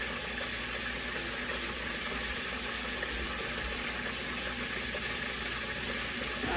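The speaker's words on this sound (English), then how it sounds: "So we're gonna let this fish fry, and it's not gonna take long." Fish coated in yellow cornmeal batter frying in hot oil, a steady, even sizzle and crackle that holds constant throughout with no talking.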